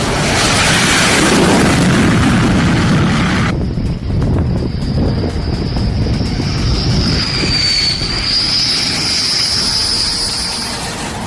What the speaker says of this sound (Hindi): इजराइल अपने फाइटर जेट उड़ाने लगा है।